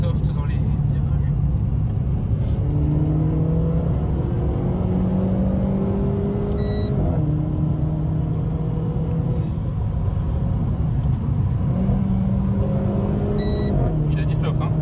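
A car with Brembo front brakes driving on a road through corners, its engine note climbing and dropping in steps with gear changes; a steady, close rumble runs throughout with faint voices now and then.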